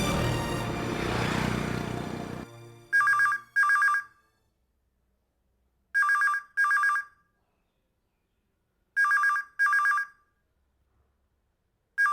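Telephone ringtone for an incoming call, sounding in three pairs of short electronic trills separated by silences, after a short stretch of louder background noise at the start, with no speech.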